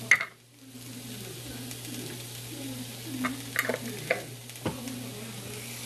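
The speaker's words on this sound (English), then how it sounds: "So you're just sauteing everything around" Garlic and mixed vegetables sauté in a pan for a veggie stir-fry: a steady close sizzle runs throughout, with scraping stirs and a few sharp utensil knocks on the pan toward the end.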